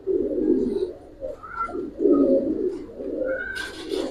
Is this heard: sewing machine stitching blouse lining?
no